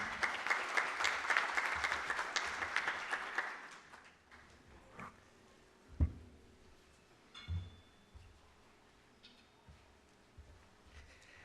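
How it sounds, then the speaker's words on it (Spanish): Applause from a congress audience at an electoral studies conference in Peru, loud and steady for about four seconds before fading into quiet room noise with a few scattered thumps. "Recibámoslo con un fuerte aplauso al doctor Percy Medina Macías."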